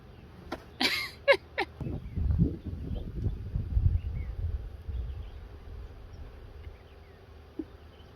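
Honey bees buzz in brief close passes at the start while they are moved from a nuc into a hive. Low rumbling handling and wind noise follow.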